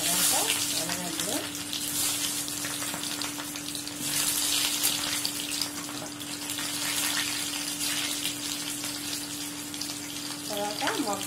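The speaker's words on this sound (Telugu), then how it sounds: "ఆయిల్ వేడైపోయింది. ఇప్పుడు మనం ఆవాలు వేసుకున్నాం, తర్వాత ఎర్రగడ్డలు," Mustard seeds and onions frying in hot oil for a drumstick kurma, a constant loud sizzle with faint popping, running alone for several seconds under a steady low hum.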